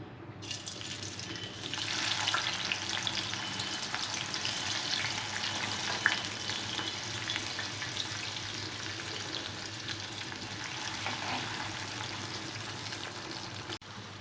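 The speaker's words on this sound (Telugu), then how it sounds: "దొండకాయ ముక్కలన్నీ ఇలా ఫ్రై చేసి పక్కన పెట్టుకోవాలి." Ivy gourd pieces frying in hot oil for an onion stir-fry, a steady broadband sizzle that swells after the first couple of seconds and holds evenly, close and fairly loud, with no voices.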